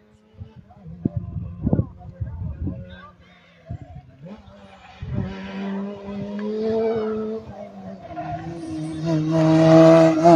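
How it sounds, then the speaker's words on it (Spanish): Rally car number 732 drifting past on asphalt during a Santiago del Estero rally stage at Villa La Punta, its engine rising from a distance to a loud, sustained revving pass with tire noise, under an excited commentator's voice. "Viene jugando, viene haciendo drifting prácticamente. El coche número 732 ocupando todo el asfalto."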